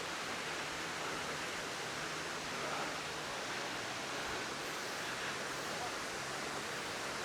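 A waterfall at a campsite gives a steady, loud, even rush of falling water that fills the whole stretch without a break.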